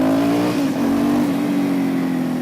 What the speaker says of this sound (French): le petit clac des moteurs italiens, les bicylindres italiens